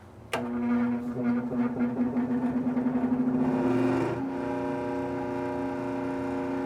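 A Singer 111w151 industrial sewing machine motor starts with a sharp click, spins up and runs at full speed, holding a loud, steady, close whirring hum with a strong tonal drone and no other sound.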